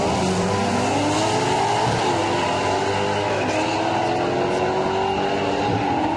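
A Mustang drag races down the National Guard lane at Heartland Park in Topeka during Hot Rod Drag Week, its engine a loud, sustained roar throughout with rising pitch as it accelerates.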